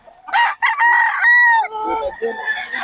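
Young gamecocks crow up close and loud, two or three hoarse, strained cock-a-doodle calls overlapping in quick succession at a cockfighting venue in Bocaue.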